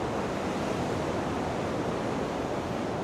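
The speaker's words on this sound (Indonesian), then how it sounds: "Kalian dengar sendiri deh ya, ombaknya deras banget." Strong waves crashing on a southern beach, a dense, constant roar of surf heard close and loud with no break and no voices.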